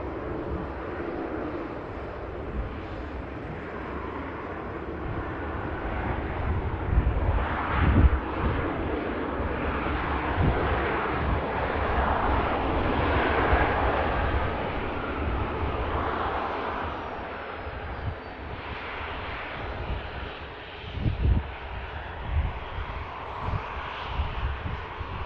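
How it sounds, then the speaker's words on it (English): A Jet2 airliner touches down at Manchester Airport after a flight from Rome, its engines giving a steady, broad roar from a distance that swells and fades across the clip, with gusts of wind on the microphone. "We do have a Jet 2 about to touch down from Rome."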